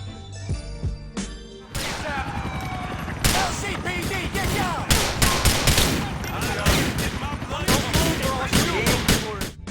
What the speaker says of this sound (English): when a policeman has a shotgun and we shoot it from his hand